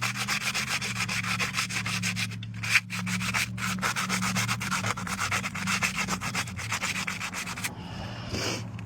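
Sanding rust off an old Chevy truck wheel, a continuous rhythmic scraping rub with quick repeated strokes, close and steady for about eight seconds before stopping, with no talking.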